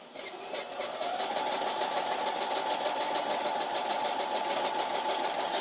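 A home sewing machine stitches a quilt-as-you-go block, starting up after a second and then running in a steady, close, even mechanical whir with a fast rhythmic chatter, with no talking.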